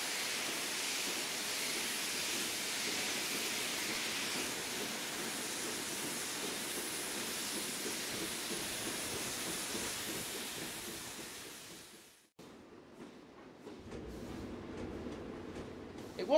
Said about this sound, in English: So Dave rolled out of the yard and toward the main line